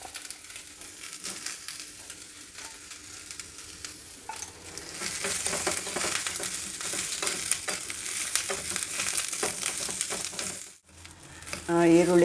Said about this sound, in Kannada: ಈರುಳ್ಳಿ ಕೂಡ ಚೆನ್ನಾಗಿ ಫ್ರೈ ಆಗಿದೆ